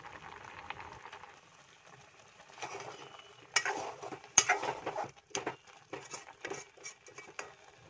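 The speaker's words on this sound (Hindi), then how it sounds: "अब इसे अच्छे से मिक्स कर लेते हैं।" Carrot murabba stirred in a pot of thickening cardamom sugar syrup: a quiet start, then a run of clinks and scrapes of a spoon against the pot, close by, loud and irregular, over a soft bubbling simmer.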